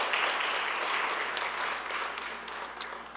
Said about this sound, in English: I want to ask that we give another big, big round of applause to Francois Sayez